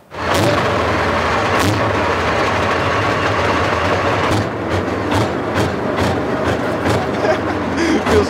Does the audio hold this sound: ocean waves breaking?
no